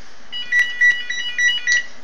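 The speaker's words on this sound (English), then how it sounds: "phone rings again." Phone ringing indoors with a loud, close electronic ringtone repeating short bright tones in a quick rhythm, heard alone without talk.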